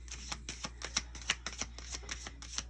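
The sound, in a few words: shuffling a deck of cards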